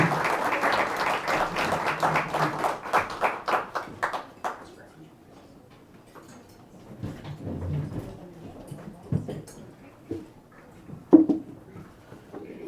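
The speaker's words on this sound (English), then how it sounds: "a round of applause for our speaker today" An audience at a Rotary Club luncheon applauds the guest speaker, clapping in a brief burst that fades out within a few seconds, followed by quiet room noise and faint speech.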